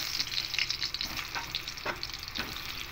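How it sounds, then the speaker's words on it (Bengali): Boiled potato pieces fry in mustard oil in a wok with a steady crackling sizzle, broken by a few soft scraping stirs, close and fairly quiet with no voices. "দিয়ে হালকা করে আলুগুলোকে একটু ভেজে নেব"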